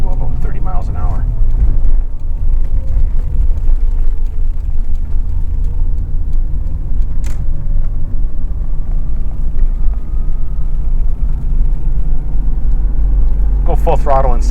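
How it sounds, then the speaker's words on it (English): A 1990 Toyota Supra Turbo pulling at full throttle in second gear, its engine drone a loud steady roar with a slowly rising tone and heavy low-end rumble throughout, short bursts of speech at the start and finish. "Go full throttle in second gear here."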